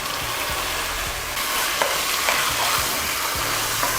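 Ground beef fries in a pan with spices while being stirred, a steady loud sizzle with scraping stirs and small clinks throughout, no voices.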